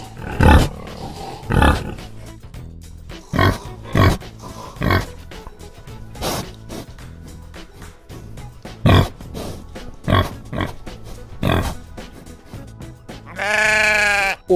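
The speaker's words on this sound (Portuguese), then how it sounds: "Ovelha" A single wavering sheep bleat comes at the very end, loud and close, after a run of deep grunts and roaring calls from other animals.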